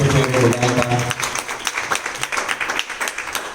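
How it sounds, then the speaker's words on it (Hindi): An audience at a Bhagwat katha religious gathering in a temple in Tenerife, Spain, claps in a dense, steady patter of many hands, following a brief stretch of talk at the start. "ताली था वजायो भाई"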